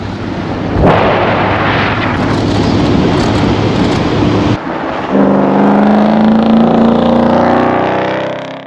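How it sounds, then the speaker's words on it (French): A Porsche Cayenne drives across the dry bed of Lake Iriki in southern Morocco, a loud, steady rumble of engine and tyres on hard ground. It is broken by a sharp thump and a brief drop near the middle, then continues loud to the end. "On roule sur le lac Iriki, Le lac asséché."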